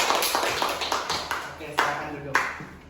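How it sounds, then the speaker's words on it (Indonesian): A class in a school lesson claps for a student group, a series of sharp, fairly regular hand claps with a few louder strikes, heard close with a voice talking over them. "tepuk tangan juga untuk kelompok 2."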